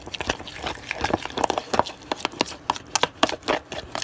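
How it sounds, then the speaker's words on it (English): A thick dressing of mayonnaise, mustard and dry onion is stirred in a bowl, making close, wet squelching and clicking sounds in a quick, uneven rhythm, with no voice. "It's hard to stir."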